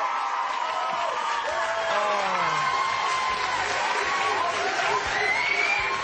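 A talent show audience cheers, whoops and applauds in a steady, dense roar that holds from start to finish with no pauses.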